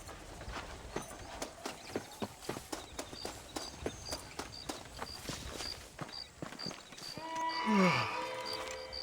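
Horse hooves clip-clop in a steady walking rhythm through most of a Red Dead Redemption scene, then give way near the end to a louder swelling sound.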